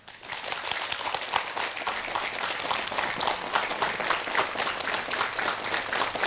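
A lecture audience claps together in unison, a steady stream of rhythmic hand claps that stays even and dense from start to finish with no talking over it.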